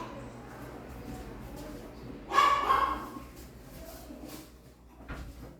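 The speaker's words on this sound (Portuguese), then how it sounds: "meu pincher decidiu latir lá fora" A miniature pinscher barks outdoors, heard as one muffled, distant burst of barking partway through over a steady low background hum.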